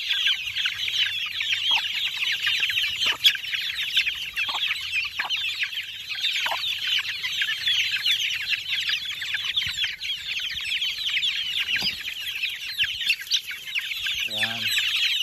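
Young chicks at mealtime, a dense, continuous chorus of high peeping and soft clucking, close and steady, with occasional scuffles and wing flutters underneath.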